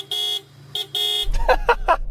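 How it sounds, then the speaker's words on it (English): A Toyota GT86 car horn sounds two bright beeps close by, the second longer, followed by someone speaking over a low rumble. "That is the lamest horn ever, isn't it?"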